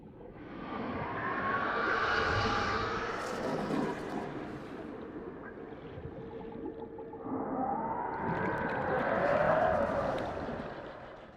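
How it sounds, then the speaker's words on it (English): A crab snake creature in the video game Subnautica lets out two long, eerie wailing screams separated by a pause, over a deep underwater rumble, no talking. "what makes the crab snake scary? Well, just listen to the sounds it makes."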